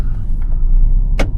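A car drives up close to a house and parks, its engine a steady low rumble throughout, with a brief brighter whoosh near the end.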